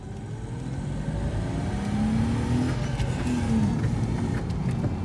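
The engine of a project car runs and revs, heard from close range. A loud, steady motor drone swells with a couple of rising pulls, and no voices are heard.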